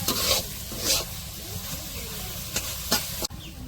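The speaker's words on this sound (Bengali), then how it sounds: "সোয়াবিনের মাংস গুলো এখন একটু কষাই নিব।" Soybean chunks being stir-fried in a spice masala in a village kitchen, with a steady frying sizzle and several sharp scraping stirs of the spatula against the pan.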